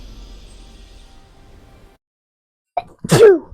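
A single sharp human sneeze rings out close and loud after a quiet stretch, preceded by a brief intake of breath.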